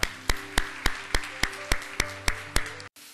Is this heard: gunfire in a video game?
no